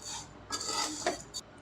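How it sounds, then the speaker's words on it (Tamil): A utensil stirs sugar into vermicelli in a pan, making soft scraping and rubbing strokes against the metal, a few short, close passes with faint clinks. "சுகர் சேர்த்ததுக்கப்புறம் ஒரு நிமிஷம் நல்லா கிளறி விட்டுக்கோங்க."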